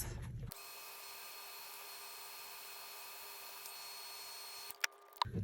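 A heat tool blowing hot air to dry mica spray stain, a steady whining hum holding evenly for several seconds before it cuts off, followed by a couple of sharp clicks and knocks.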